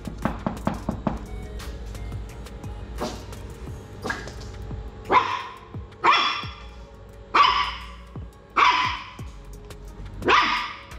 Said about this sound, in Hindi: भौंक रहा था तू इस पे